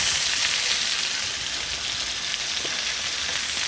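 Three steaks fry in a pan with a loud, even, continuous sizzle and crackle heard up close and alone.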